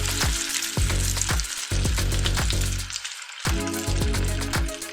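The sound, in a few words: batter frying in hot oil for motichoor laddu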